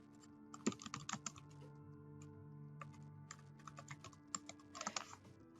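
Quiet typing on a computer keyboard, with keys tapped in short irregular runs and brief pauses, close up against a low steady hum.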